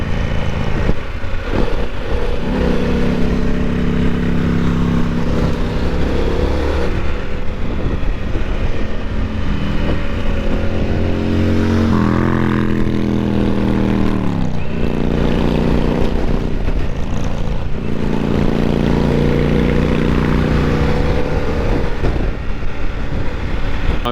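A Harley-Davidson Pan America motorcycle rides along a back road in Maryland, its engine a loud, close rumble with rising and falling pitch through gear changes, mixed with heavy wind roar throughout.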